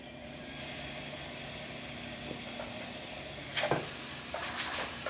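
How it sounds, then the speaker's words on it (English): Steam wand on a freshly serviced Zacconi espresso machine, blowing a strong, steady hiss that starts within the first second and runs throughout, with a few faint clicks and a slight surge near the end. "Nice strong steam."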